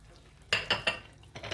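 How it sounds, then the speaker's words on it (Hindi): A spoon stirs chicken curry with freshly added coriander and mint in a pan: three quick scraping clinks in a row, a short pause, then two more, close and fairly quiet. "और इसको मिक्स कर लेते हैं अच्छे से"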